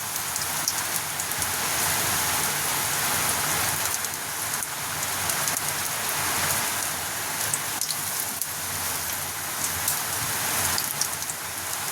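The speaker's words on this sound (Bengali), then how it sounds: "আর বাইরে প্রচুর মুষলধারে বৃষ্টি আরম্ভ হয়ে গেছে।" Heavy rain pours steadily outside, a dense even hiss of drops on surfaces holding for the whole stretch with no pauses.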